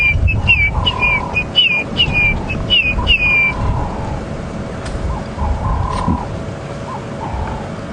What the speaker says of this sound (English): That whistling sound is called a grey hornbill.